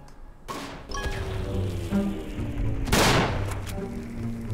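Rifle fire in the World War I shooter Verdun, a couple of loud cracking shots with a big blast near the middle amid a continuous rumble of battle noise, close and sharp.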